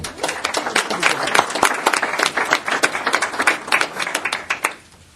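Applause from those attending a regional transportation board of directors meeting, honoring Lisa's service: a dense burst of many hands clapping close by, steady for about five seconds before stopping abruptly.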